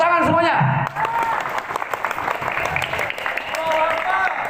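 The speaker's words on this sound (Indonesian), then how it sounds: "Tepuk tangan semuanya." Audience applause at a lively, humorous Indonesian sermon: steady clapping from a crowd fills the whole stretch, with a preacher's voice speaking over it at the start and end.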